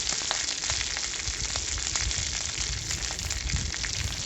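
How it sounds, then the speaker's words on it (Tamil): Small onions and dried chilli sauté in hot oil for lemon rice, a close, continuous dense sizzle with fine crackling throughout. "எல்லாத்தையும் போட்டு நல்லா வதக்குங்க."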